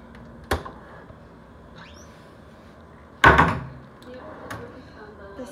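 A hotel room drawer at the Hilton Hawaiian Village slides and knocks, a small tap early on and then a louder wooden clunk that rattles briefly before settling, in a quiet room.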